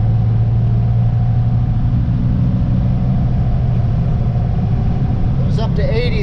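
A Cummins diesel squarebody truck on big tires drives down the road at highway speed to pass, giving a loud, steady low engine drone heard from inside the cab.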